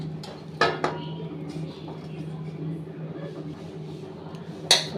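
Butter being worked into crispy snack dough in a bowl, with a few sharp clinks of utensil against the bowl over a soft, steady background.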